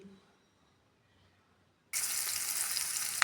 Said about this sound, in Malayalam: കടുക് പൊട്ടിക്കുക അതിലേക്ക് ഉള്ളി പച്ചമുളക് വെളുത്തുള്ളി